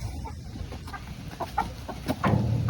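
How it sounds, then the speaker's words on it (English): Three or four chickens squabble over a nest box, giving irregular close clucks and short squawks over a rustling, scratchy background, growing louder toward the end. "We've got 3 or 4 chickens battling over this nest box here"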